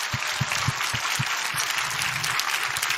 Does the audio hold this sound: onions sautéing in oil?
no